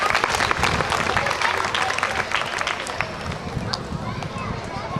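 A crowd at a jayanti festival gathering honouring Jyotiba Phule and Babasaheb Ambedkar claps loudly in a dense, sustained burst of applause that slowly thins out toward the end.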